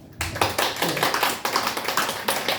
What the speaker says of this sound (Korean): 우리 박수 한번 치고